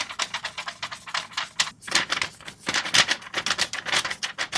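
Pages of 52 GSM Tomoe River paper in Hobonichi Weeks and Kinbor Weeks planners being flipped and crinkled, giving rapid, close, crisp rustling bursts in an irregular rhythm with no voice.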